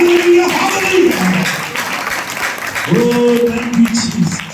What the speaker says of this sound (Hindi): अब ताली बजाकर परमेश्वर को महिमा करें।